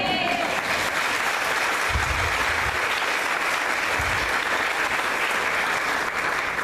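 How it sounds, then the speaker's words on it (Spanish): An audience in a church gives a loud, steady round of applause. Dense clapping continues without a break for the whole stretch, with faint voices underneath. "Dale un aplauso."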